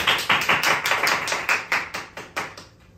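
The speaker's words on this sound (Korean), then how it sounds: "박수 소리." Applause at a church reading, with about a dozen distinct sharp claps in a steady rhythm that thin out and fade toward the end, nearby and without talk.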